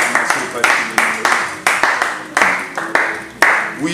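Congregation at a French-language worship service clapping in loud, rhythmic, evenly spaced claps at a steady beat, close and energetic, acclaiming God with voices in the background.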